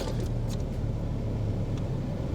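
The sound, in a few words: car engine running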